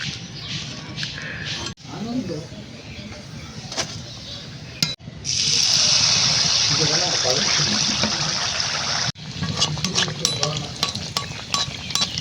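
Jaggery malpua batter frying in overheated oil, a loud steady sizzling hiss swelling in the middle and fading back, with people talking over and around it.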